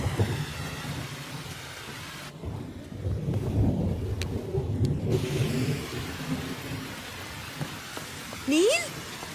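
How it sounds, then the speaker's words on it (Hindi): Steady rain pours down outdoors in a dramatic film scene, a broad wash of hiss with low rumbling beneath, while a short musical swell rises near the end. "I just love the rain."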